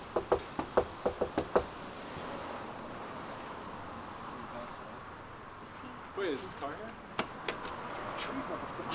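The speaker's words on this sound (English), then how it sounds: "Maybe give us a louder knock." A run of sharp knocks on a door or wall, about seven quick raps close together near the start, followed by a busy background of movement and scattered taps with talking around.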